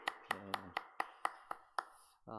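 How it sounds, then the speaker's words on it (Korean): A single speaker at a church youth service claps about eight times in an even, unhurried rhythm. The crisp, close claps are evenly spaced, with faint traces of voice between them and a short spoken sound at the end. "제가 한번 박수 한번 쳐드릴게요."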